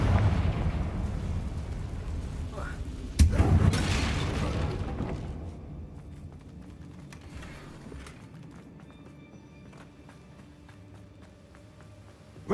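Confringo spell in Hogwarts Legacy erupts with a loud booming blast, a sudden burst followed by a rumbling roar that slowly fades into quieter debris and ambience.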